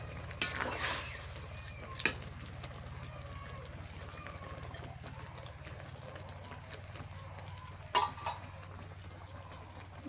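Pieces of fried fish are stirred into a pan of bottle-gourd leaf curry, giving a quiet, intermittent sizzle broken by a few sharp utensil clacks.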